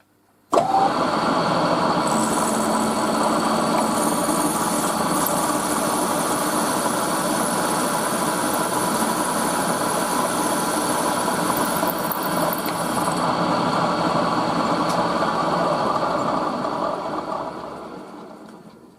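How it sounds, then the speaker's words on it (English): A steady, loud mechanical whine and grinding runs for nearly the whole stretch, then winds down at the end, as a power drill bores a hole through a metal lamp post part. "drill the hole in the middle"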